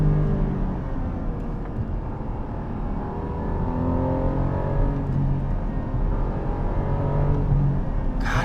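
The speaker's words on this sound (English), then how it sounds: "Listen to that engine." A 2021 Porsche 718 Cayman GTS with a 4.0-liter flat-six, driven hard on a tight, twisty road: a steady, deep engine drone heard from inside the car, swelling slightly as it revs, with road rumble and no talk.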